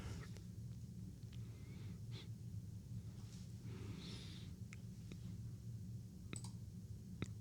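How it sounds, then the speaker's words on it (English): A computer keyboard's spacebar being pressed, a few sharp, faint isolated clicks spaced irregularly over a quiet low hum in a close indoor setting. "you can just keep hitting spacebar"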